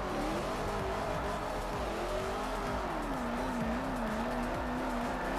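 A 1959 Cadillac drifts in a tuning and drifting video game, its tires squealing in one long, wavering, continuous screech over a constant loud engine roar.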